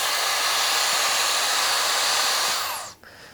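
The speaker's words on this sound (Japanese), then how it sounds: "勢いがとんでもない勢いで風が出てきます" Futon dryer blasting air much like a hair dryer, a loud steady rushing whoosh heard alone up close that winds down and cuts off near the end.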